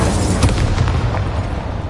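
A fiery Incendio spell blast in the Hogwarts Legacy video game, heard as a dense, loud booming burst that rolls continuously with layered rumbling impacts and no talking.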